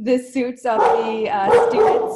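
Diamond, a pet dog, barks and whimpers in several close, loud bursts, yips overlapping with a voice talking indoors.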